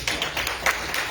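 Scattered applause from a board meeting audience honoring scholarship students, a steady patter of many hands clapping at moderate volume with no voices over it.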